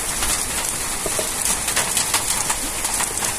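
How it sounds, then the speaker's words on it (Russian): Hail falls in Omsk, Ostashkovo, a dense steady hiss of small ice pellets peppered with faint sharp ticks, continuous and fairly loud throughout. "Град."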